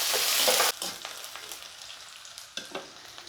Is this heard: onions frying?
yes